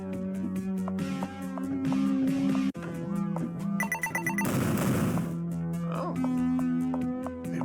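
A burst of noise from an explosion in the video game Paradox Soul, about a second long, set against repeating electronic game music and sound effects.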